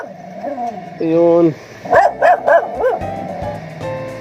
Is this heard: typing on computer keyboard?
no